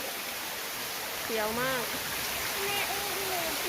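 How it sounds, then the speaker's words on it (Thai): A waterfall pours in a steady, soft hiss throughout, while someone talks over it. "นี่คือน้ำตกนะคะ"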